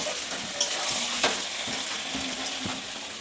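Chicken cooks in a frying pan with a steady hot sizzle, broken by a few sharp stirring scrapes and clinks of a utensil, close and continuous throughout, with no talking.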